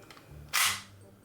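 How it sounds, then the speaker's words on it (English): Gas airsoft pistol firing one sharp, loud crack on an empty magazine, the slide locking open, with faint mechanical handling before and after. "It's got some gas in this, and it should lock open on the first shot, because mag's empty."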